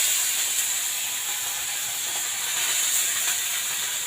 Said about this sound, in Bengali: এরপর আমি মাছগুলো দিয়ে দেবো।